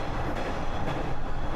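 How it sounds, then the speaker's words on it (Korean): A single-car train runs along rails near Tokushima, Japan, heard from inside the carriage. The rumble of wheels and engine is steady, loud and continuous, with no distinct clacks standing out. "단 한 칸짜리 열차였는데요."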